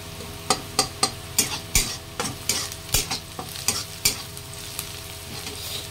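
Onions stir-frying in a pan while a spatula scrapes and clacks against the metal in quick irregular strokes over a steady low sizzle, close up with no voices.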